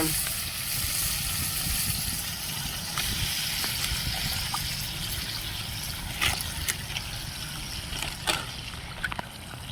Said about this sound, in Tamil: இப்போ வெங்காய தக்காளி நல்லா வதங்கிடுது.